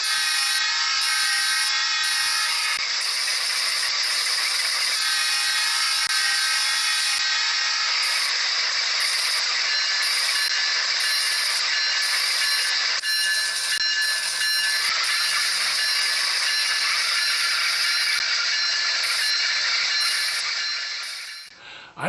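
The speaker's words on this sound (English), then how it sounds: "Listen to this Nscale diesel equipped with a low sound decoder" An N scale model diesel locomotive fitted with a low sound decoder gives off a steady electronic engine drone with a whining, buzzy tone, running continuously at close range and fading at the very end.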